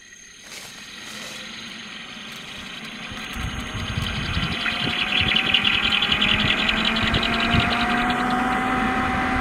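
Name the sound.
7.5 HP motor running on Shakti solar pump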